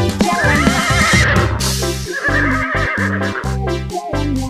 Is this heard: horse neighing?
yes